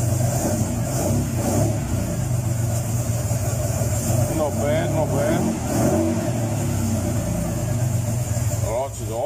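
A Chrysler CL Charger engine running rough while cold, a steady loud idle with uneven revving surges, heard close with someone speaking briefly over it.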